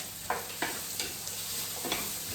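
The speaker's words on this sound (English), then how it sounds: "We're going to go ahead and add those right into our pan with our onions." Diced potatoes stirred into browning, caramelizing onions in a pan, a soft continuous sizzle punctuated by several sharp spatula scrapes at uneven intervals, close and without voices.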